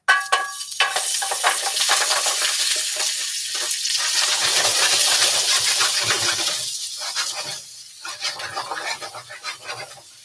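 Food sizzles and fries loudly in a pan over medium-high heat with smoked paprika just added, a steady close hiss with stirring scrapes running throughout.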